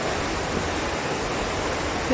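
A small waterfall trickling beside a climbing mountain trail at Phu Soi Dao, Uttaradit, Thailand, heard as a steady broad rush of water close by with no other sound over it.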